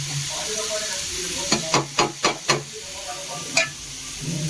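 Grated coconut is stirred into drumstick palya frying in a pan: a quick run of five scraping strokes and one later stroke over a steady sizzle.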